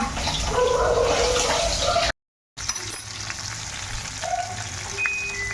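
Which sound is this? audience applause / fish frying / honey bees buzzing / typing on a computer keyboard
fish frying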